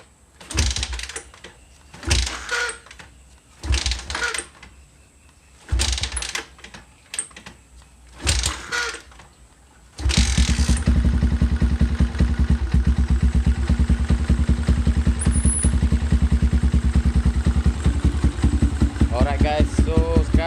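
Several short bursts of cranking and sputtering give way to a Yamaha LC135 motorcycle engine catching and settling into a steady, loud idle.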